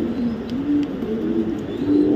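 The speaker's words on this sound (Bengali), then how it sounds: "কবুতরটা রেস করা কবুতর" A racing pigeon fitted with an electronic chip ring coos steadily and close by, its low rolling calls repeating without a break for about two seconds, with no speech over them.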